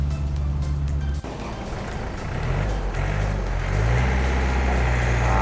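A Yanmar EF 514T 51-horsepower tractor engine runs loud and close as it drives, a steady diesel drone that shifts in pitch as the tractor moves and changes speed, with no talk.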